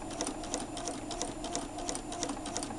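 A sewing machine stitches fabric in a steady, rapid mechanical whir, carefully pivoting at the corners, with rhythmic ticking pulses from the needle running close and continuous throughout.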